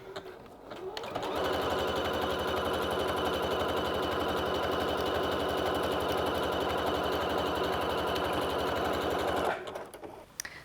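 A sewing machine stitching a 3-step zigzag runs in one continuous, even whir for about eight seconds, starting and stopping abruptly, close up and alone.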